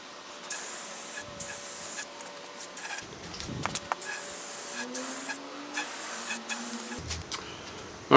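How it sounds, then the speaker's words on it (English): Spray paint hisses onto workbench wheel lifts in several short bursts separated by quiet gaps, each burst a close, airy rush of aerosol. "show you some of the spraying that I'm doing here"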